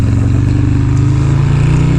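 A loud motorcycle exhaust drones steadily and close, a deep throbbing engine note holding for about two seconds without a break.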